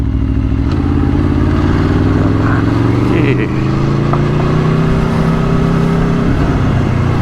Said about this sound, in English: The perks of having a loud ass bike.